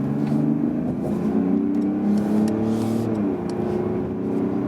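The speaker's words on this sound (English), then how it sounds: "We go on the motorway and show you some more of that diesel acceleration in this case then." Mercedes GLE 350d diesel SUV accelerating hard on a motorway, heard from inside: a steady, loud engine drone whose pitch climbs and then dips at a gear change before rising again, with road and wind noise beneath.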